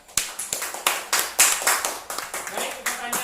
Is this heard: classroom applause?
yes